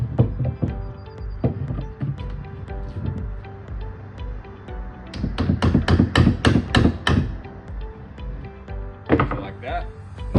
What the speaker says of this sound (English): we're going to beat the bolt through to where it's coming out the back just a little bit.